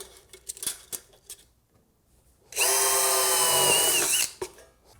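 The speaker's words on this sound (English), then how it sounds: "we'll pre-drill this 1 inch from each end" A power drill pre-drilling holes in metal board-and-batten siding whines at high pitch in one loud burst of about two seconds, following quieter handling knocks and taps.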